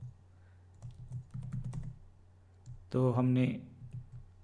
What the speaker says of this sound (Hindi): मैं इंसर्ट करके हाय, हेलो, ओके, ये 3 लाइनें लिख देता हूँ फाइल के अंदर।